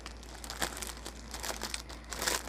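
Cross-stitch canvas unwrapped from its plastic packaging, making quiet close crinkling and rustling of thin plastic in irregular bursts throughout, with no talking.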